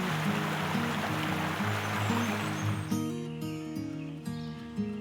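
Water of the Dumoine River flows with a soft, continuous rushing wash for the first few seconds, then gives way to quieter trickling under steady tonal hums and faint bird calls.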